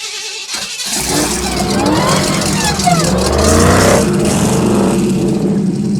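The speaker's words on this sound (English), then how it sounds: "Keys in the ignition." A car engine loud and close, revving and accelerating with a roaring, rising-and-falling drone throughout, while people talk over it.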